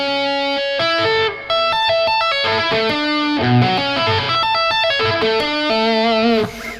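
A tapped electric guitar arpeggio outlines a major chord built off the flat 7, with quick, clean, evenly spaced notes ringing out alone in a steady, rippling pattern.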